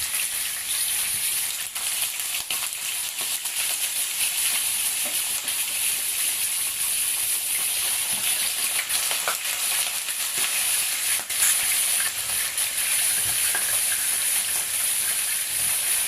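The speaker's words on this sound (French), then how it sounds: "Je mets le poisson dans l'huile chaude." Salted fish frying in hot oil in a pan gives a continuous dense crackling sizzle, steady and close for the whole stretch, with scattered sharper pops and no voices.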